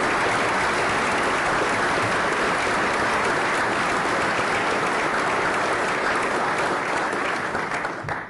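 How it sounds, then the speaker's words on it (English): A courtroom audience at a Supreme Court investiture gives sustained, dense applause for the Chief Justice, holding strong before tapering off at the very end. "A round of applause, please,"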